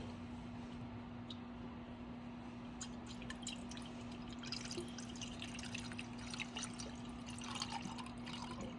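Coolant pours and drips into the coolant reservoir of a Chrysler with a Hellephant engine, a faint trickle of small drips and splashes over a steady low hum.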